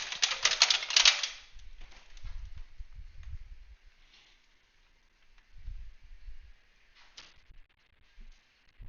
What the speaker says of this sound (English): I can hear somebody typing.